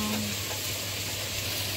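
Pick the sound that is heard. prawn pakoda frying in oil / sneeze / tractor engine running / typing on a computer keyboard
prawn pakoda frying in oil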